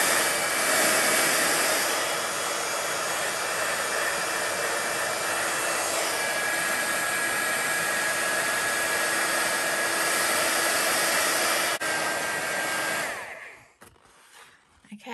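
A hair dryer runs steadily and loudly, blowing on mixed media paper treated to look like weathered wood, a continuous whooshing hum that holds for about thirteen seconds before cutting off abruptly.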